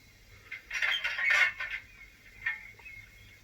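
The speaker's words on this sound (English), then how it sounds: "It does have little bird sounds." Small chirping bird calls from a model train's built-in sound system, a short cluster of bright twittering notes followed by a fainter chirp, close and fairly quiet with no talking.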